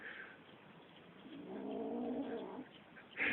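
Two kittens growl and caterwaul at each other while eating a sheep's lung, low rumbling growls that swell in the middle and rise to a sharp yowl at the end, close by.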